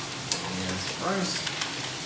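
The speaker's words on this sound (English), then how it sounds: "Just going to give it a little stir around here first." A spoon stirs rice and beans with stock concentrate in a hot pan, giving a soft, steady scraping and sizzle that runs close and continuous with no voice over it.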